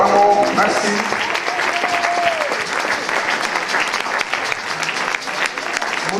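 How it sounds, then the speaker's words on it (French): An audience at an ordination ceremony claps steadily for several seconds, a dense even applause with a brief tonal murmur of voices near the start. "Oui, nous acclamons."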